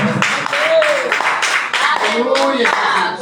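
A church congregation claps during a Portuguese-language sermon, sharp rhythmic hand claps mixed with voices calling out and a preacher's tonal exclamations, loud and lively with overlapping shouts.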